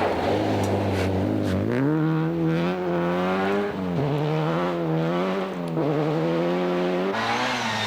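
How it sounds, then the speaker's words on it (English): Opel Astra and Nissan Sunny Formula 2 rally kit cars racing on a stage of the 2000 Norwegian Rally Championship, Rallye Solor. A loud, close engine roar rises and falls continuously through gear changes, with no talk. "And he's being chased now in the Formula 2 battle by the Nissan Sunny kit car of Trond Leising and Paul Everson."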